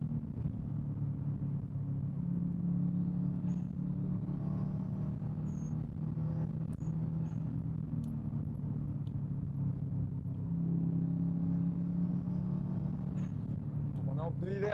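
A tuned 370-horsepower Subaru WRX STI Prodrive on winter tires cruising at about 90 km/h, giving a steady low engine and road drone from inside the cabin, with a voice talking over it.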